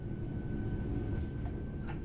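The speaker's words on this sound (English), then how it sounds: "Bring this train to a complete stop by moving the power brake handle into the braking range." A train in the Train Sim World 4 game rolls with a steady low rumble and faint hiss while braking, with a thin tonal whine and a couple of soft clanks, continuous and even throughout.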